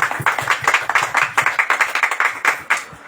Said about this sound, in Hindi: आइए परमेश्वर के लिए एक अच्छी ताली बजाते हैं